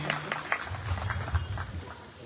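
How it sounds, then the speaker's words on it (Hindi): Scattered, light clapping from a small crowd welcomes a guest at a school gathering, brief and fairly faint against the room. "जोरदार तालियों से स्वागत होनी चाहिए"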